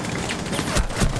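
A sharp video game gunshot for a headshot, loud and close, a quick crack with a brief burst of noise at the end of a short dense stretch of game audio.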